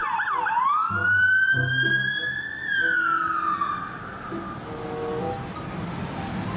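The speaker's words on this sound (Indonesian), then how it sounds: "Wah, kita mendapatkan mobil polisi teman-teman." Toy police car siren wails, sweeping up then sliding down in a long electronic tone, fairly loud and close, with faint low beeps and tones underneath.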